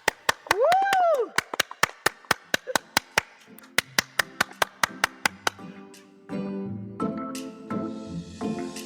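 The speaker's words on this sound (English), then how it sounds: "Ladies, let's give our listeners an applause." Podcast hosts clap in a quick, uneven run of sharp single claps, close and distinct, with a whoop at the start and voices and laughter taking over toward the end.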